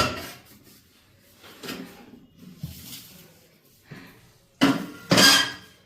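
Metal clanks from a dal batti pot with a lid and a mesh grate being handled: soft scattered knocks that build to two louder, ringing clatters near the end.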